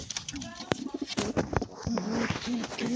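A homing pigeon coos close by in a bird keeper's loft, with soft repeated low throaty calls mixed with rustling and background chatter.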